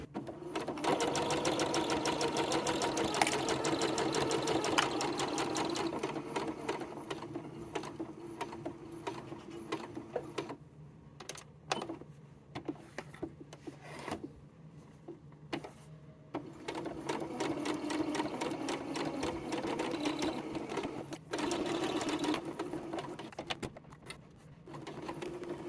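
Home sewing machine stitching the fabric lining of a Christmas pet stocking, running in steady rapid bursts with brief pauses between seams, close and alone.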